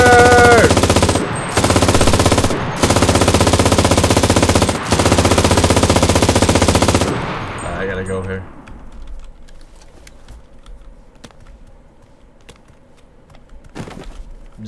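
Long bursts of automatic gunfire from the video game CRSED: F.O.A.D., loud and continuous with brief gaps, then cutting out into quieter game ambience with a few faint distant shots.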